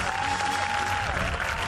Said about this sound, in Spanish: Ahora sí, esas palmas.